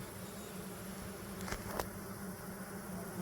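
Honeybees in a swarming hive buzz in a faint, steady hum, with a couple of brief louder clicks or pips standing out in the middle; no one speaks.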